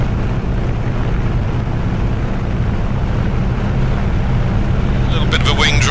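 A simulated F6F-5 Hellcat in Microsoft Flight Simulator powers up for takeoff, its engine a loud steady low roar with wind-like rushing noise throughout, joined near the end by a brief higher whine.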